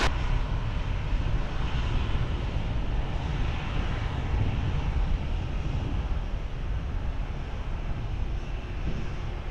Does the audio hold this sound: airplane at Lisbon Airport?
yes